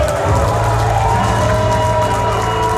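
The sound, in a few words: capacity crowd cheering for wrestler Kevin Cantrell in Tifton, Georgia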